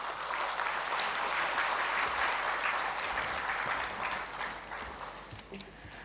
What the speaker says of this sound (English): I request the audience for a bigger round of applause.